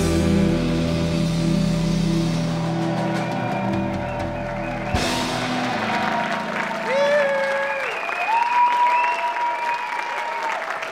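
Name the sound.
applause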